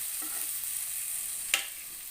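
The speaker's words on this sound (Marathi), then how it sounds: "मसाला खूप चांगला भाजत आलेला आहे" Masala roasting in a pan and being stirred with a wooden spoon while fish curry is cooked at home, a faint continuous sizzle with one sharp scrape of the spoon, no talk.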